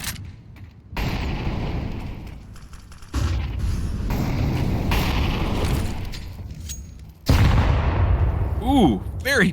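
Grenade blasts in Counter-Strike on the Dust2 map during an ESL Challenger League esports match, Arrival 7 against FlyQuest Red: heavy booming bursts among game noise, with a caster talking over them.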